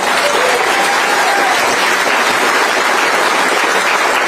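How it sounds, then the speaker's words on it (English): Loud, dense crowd applause fills a political rally hall in Kelowna as a Member of Parliament from Penticton is welcomed, continuous clapping throughout with no voices over it. "Give her a round of applause."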